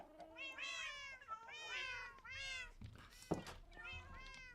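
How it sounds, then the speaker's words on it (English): A cat in Minecraft meows repeatedly in drawn-out, wavering cries, loud and close, with a brief thump partway through. "I need to remove this cat."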